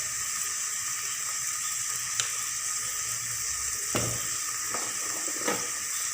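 Onions, green chillies and salt are stirred and lightly sautéed in a pan for a soya chilli dish, a steady low sizzle with a few faint scrapes of the spoon, close and quiet.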